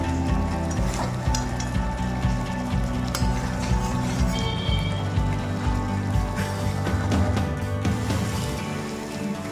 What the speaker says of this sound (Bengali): এখন দিয়ে দিচ্ছি অল্প একটু শাহি গরম মশলা পাউডার। আরও 10 মিনিট এরকমভাবে কষিয়ে নিচ্ছি।